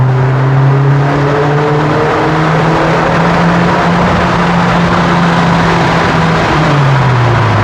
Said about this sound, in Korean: 이제 여기서 터널 배기음 안 들어볼 수는 없죠.